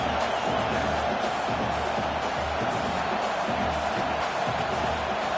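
Packed stadium crowd at a Florida vs Ole Miss college football game roaring in a dense, continuous wash of noise loud enough to force a false start, steady throughout with no single voice standing out.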